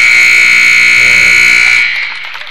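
A basketball game-ending buzzer sounds at a junior varsity girls' game, GLR versus Sioux Center, as a final shot misses. It is a loud, steady electronic tone that holds for nearly two seconds, then cuts off into faint gym ambience.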